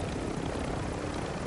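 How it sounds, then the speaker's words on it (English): Helicopter in the video game Call of Duty Warzone 2, a dense, steady rotor and engine roar filling the brief moment without a break. "You pick up the helicopter?"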